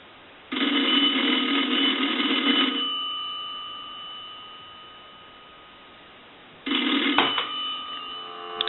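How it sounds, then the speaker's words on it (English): The bell of a North Electric three-slot payphone, triggered by a line analyzer, rings loudly in a long harsh burst, falls silent for a few seconds, then starts ringing again. "We'll go ahead and ring this telephone with the analyzer one more time."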